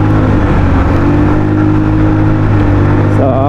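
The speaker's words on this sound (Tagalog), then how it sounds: "tahimik pa rin naman yung andar ng makina niya" A stock Rusi Royal 125 motorcycle engine runs loud and close in a steady, even drone with a constant low hum, lightly changing pitch near the end.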